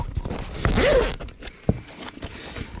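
A zipper on a bag of loose tools is pulled open in one quick rising rasp, close by, followed by a sharp click and faint rustling.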